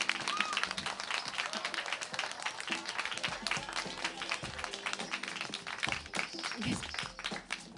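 Crowd applause at a live rooftop concert at Tokyo Tower, a steady wash of many hands clapping throughout, with faint voices and stage noise mixed in.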